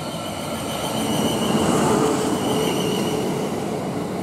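A South Western Railway train passes through Brookwood station, a loud continuous rumble of rolling wheels and carriages close by with faint rail squeal, steady throughout with no talking.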